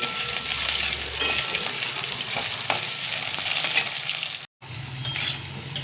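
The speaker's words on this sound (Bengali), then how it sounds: "আলুটাকে আমি তেলে ভেজে নেব" Potatoes frying in oil, a steady close sizzle with occasional stirring scrapes and clinks, briefly cut off near the end before resuming.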